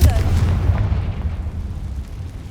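A Confringo fire spell explodes in the Hogwarts Legacy video game, a loud booming blast at the very start that rumbles deep and then slowly decays over a couple of seconds.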